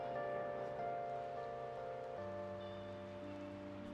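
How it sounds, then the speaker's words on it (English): Rain falling in the video game Persona 5, a soft steady patter, faint and continuous under a low sustained musical drone, with no voices. "It's raining"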